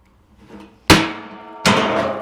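A hole punch tool punches holes in a squarebody race truck's sheet-metal floor, producing two sharp, loud metallic clanks with ringing decay and a quieter rattle before them.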